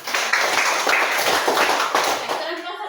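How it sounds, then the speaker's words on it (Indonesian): A classroom group claps hands together in a dense, sustained patter of applause lasting a couple of seconds before it thins out. "Berikan tepuk tangan dulu."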